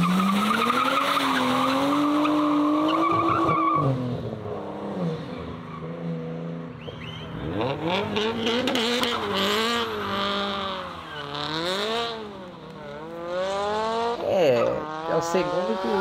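Performance cars, including a Mercedes and BMW M3s, launch hard one after another, tires squealing and engines revving up and fading as they pull away, loud and fairly close over about sixteen seconds.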